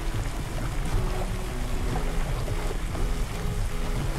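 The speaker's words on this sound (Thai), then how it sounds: "ได้บรรยากาศเสียงน้ำครับ" Steering a boat in the Roblox game Blox Fruits brings a constant rush of splashing, churning water under a low engine-like drone, steady and fairly loud throughout.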